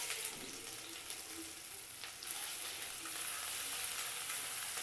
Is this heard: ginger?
yes